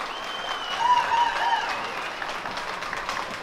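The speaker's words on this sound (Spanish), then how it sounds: "Sabilar, que se oiga el aplauso" Crowd at a rodeo tournament applauds for Rancho El Zabilar, a moderate, somewhat distant patter of clapping with a faint tonal sound drifting over it.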